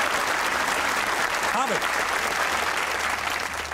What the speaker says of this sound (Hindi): बस ये तालियां होनी चाहिए आमिर भाई और बाबर दोनों को।